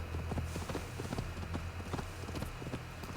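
Horse hooves clip-clop steadily in a game of Assassin's Creed Valhalla, a close, even rhythm of hoofbeats with no voices over it.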